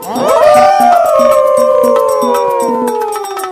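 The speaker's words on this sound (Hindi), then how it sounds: "फिर उन लोमड़ियों के झुंड ने नए राजा का अभिवादन करने के लिए एक साथ आवाज लगाना शुरू किया" Several foxes howl together, their overlapping wails sliding slowly downward in pitch, loud and sustained, over a faint rhythmic beat.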